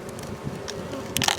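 Honey bees hum at a hive, a steady close buzzing with a few louder wingbeats passing near the end, no talking.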